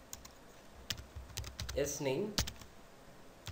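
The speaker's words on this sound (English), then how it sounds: "Consider here I'm typing" Keys clatter on a computer keyboard in a series of quick, sharp clicks, some spaced and some in short bursts, fairly close and moderately loud, with a brief stretch of a voice speaking partway through.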